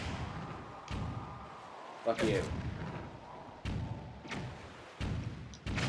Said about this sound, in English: What we're going to want to do now is pull out our cannon and blast them.